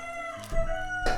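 A rooster crows nearby in a short, bright burst with harmonic tones, followed by a second rising call, loud and alone.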